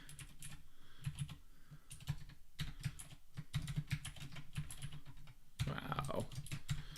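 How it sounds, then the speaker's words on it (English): Fast typing on a computer keyboard, close and quiet, with irregular bursts of key clicks continuing throughout. "Good typing."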